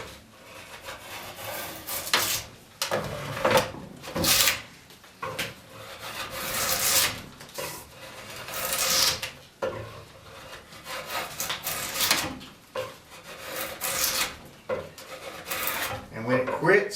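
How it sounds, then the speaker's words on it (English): A knife riving and splitting a wooden arm rail, producing repeated close rasping, cracking and rubbing strokes of wood fibre tearing, irregular in rhythm and fairly quiet. "When it quits the splitting sound and the knife quits grabbing, diving down, you're probably straight."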